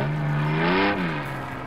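A cartoon car engine fitted with a turbocharger revs in a steady, close droning whine that rises briefly in pitch and then settles back down, with nothing else heard.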